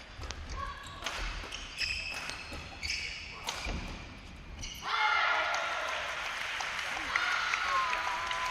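Crowd applause at the VICTOR Oceania Championships 2022 badminton final swells into steady clapping after a few sharp shuttle hits, with commentators talking over it.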